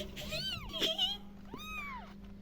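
A mother cat that has just had kittens meows twice up close, two drawn-out rising and falling cries separated by a short pause.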